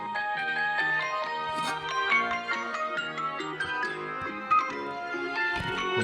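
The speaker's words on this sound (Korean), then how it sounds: "여기다가 제가 음악을 틀어서 넣어보겠습니다. 최대치로." Music with melodic tinkling notes plays at full volume inside a small foam ceramic box, sounding slightly boxy and enclosed at moderate level, continuous throughout with a few sharp knocks.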